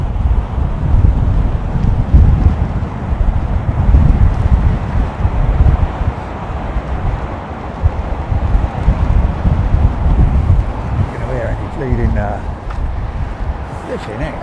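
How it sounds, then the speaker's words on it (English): Strong, relentless wind buffeting the microphone on the rooftop of a Hilton Garden Inn near Heathrow, a loud continuous low roar with gusty surges throughout, and a voice speaking faintly under it near the end. "it's quite breezy up here on the top of the Hilton Garden Inn"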